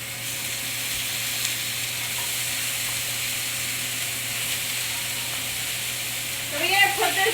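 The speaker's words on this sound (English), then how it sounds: "we're gonna add the oxtail to the pan" Oxtail sears without oil in a non-stick pan, giving a steady, close, continuous sizzle throughout, with a brief louder crackle near the end.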